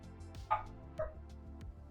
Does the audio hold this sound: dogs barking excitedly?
yes